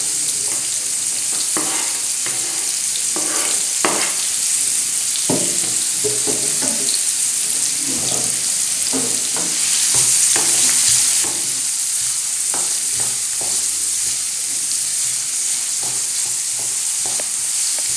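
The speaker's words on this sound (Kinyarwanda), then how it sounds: "Turakomeza tubigaragure gutya kugira ngo bibanze bishye." Onions and peppers sizzle steadily in a hot pan while a utensil stirs them, scraping and tapping in irregular bursts over a continuous close frying hiss, with no talking.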